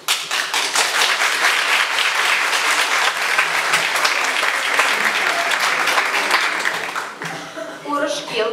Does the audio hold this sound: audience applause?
yes